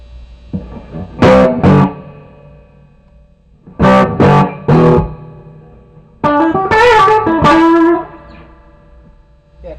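An electric guitar played through an 18-watt Ugly 18 amp fitted with a homemade reverb add-on, loud driven chords struck in three short bursts, each trailing off in a reverb tail.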